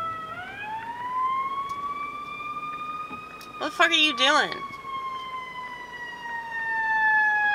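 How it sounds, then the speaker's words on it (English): A siren from an ambulance on a city street wails in long rising and falling tones that pass by. Someone speaks briefly partway through. "That is an ambulance."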